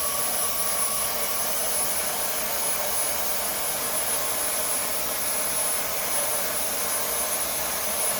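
A Dyson V10 cordless vacuum on its second power setting cleans dust and hair from a Logitech mechanical keyboard, producing a constant loud, airy, high-pitched whoosh close by without a break.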